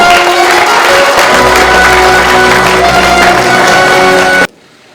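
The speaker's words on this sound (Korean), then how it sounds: "여러분 큰 박수 부탁드리겠습니다" Sustained crowd applause at an investment briefing for the new Daegu-Gyeongbuk airport, loud and dense throughout before cutting off abruptly near the end.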